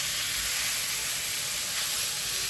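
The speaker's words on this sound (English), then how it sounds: "just cooking it till it's browned off" Meat browning for a steak pie gives a steady, close, bright sizzle and hiss from the hot pan, continuous and even throughout with no talking.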